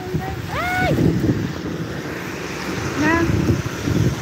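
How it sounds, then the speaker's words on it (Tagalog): Strong wind roars across the microphone in a steady, buffeting rush during rain, with a person speaking Filipino briefly over it at the start and again near the end. "Lakas ang hangin"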